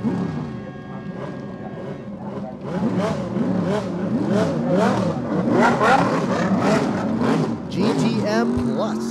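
GTM Plus race cars leaving the grid at the Thailand Super Series street circuit in Chonburi, a dense layered roar of several engines revving and accelerating together, growing louder after a few seconds, with commentary over it.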